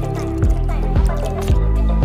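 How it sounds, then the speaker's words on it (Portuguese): Gel squeezed into water in a bowl, giving close, wet dripping and squishing sounds in several regular pulses, loud and alone. "Colocar um gel."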